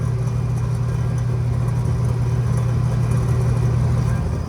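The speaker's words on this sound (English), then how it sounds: "This little freezer has got a bad evaporator fan motor." Restaurant freezer with a failing evaporator fan motor, giving a steady, close, low growling hum with an even drone throughout and no talking.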